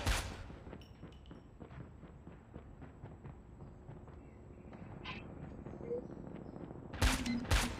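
Rapid gunfire from Call of Duty: Mobile gameplay, a continuous crackling barrage under the action, then louder sharp shots near the end.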